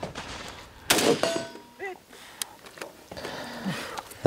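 A single sharp L1A1 SLR rifle shot at a competition shooting stage, loud and close, followed by heavy breathing and gear rustle.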